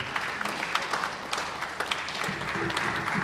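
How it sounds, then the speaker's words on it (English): Steady, dense applause from a colloquium audience fills the room, many hands clapping continuously without pause at a fairly even level. "Please let us clap as he did his remark."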